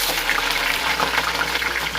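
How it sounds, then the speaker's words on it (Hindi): Cumin seeds hitting hot oil in a home kitchen pan while cooking bitter gourd, giving a loud, steady broadband sizzle and crackle that fills the whole two seconds without any speech. "हो गया है तेल गरम, ये डाल दिया जीरा।"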